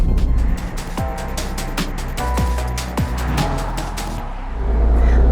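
A 2023 Toyota GR Corolla drives on a public road, its engine note rising and falling through several gear changes with steady road and tire noise underneath, no talking.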